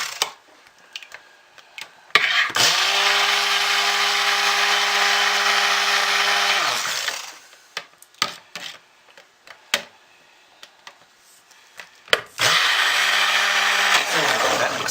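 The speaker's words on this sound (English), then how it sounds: "Work the stick blender." A stick blender whirs loudly through soap batter in two bursts, one about five seconds long and a shorter one near the end, with quiet knocks and clatter in between.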